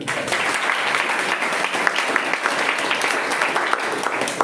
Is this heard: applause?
yes